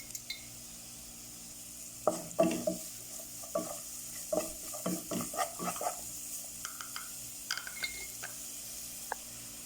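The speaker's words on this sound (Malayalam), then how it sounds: "ഗ്രേറ്റ് ചെയ്തത് അതും കൂടെ മിക്സ് ചെയ്യുക" Grated carrot mixture with sugar being stirred in a hot pan, a spoon scraping and clattering in irregular bursts over a soft sizzle, close and clear with no talk.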